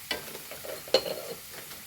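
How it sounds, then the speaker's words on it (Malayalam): Chicken kothu parotta is stirred in a frying pan: a few short scraping, sizzling strokes close by, with a sharper clack near the middle and no talking. "ഒന്ന് ഇളക്കി കൊടുക്കും"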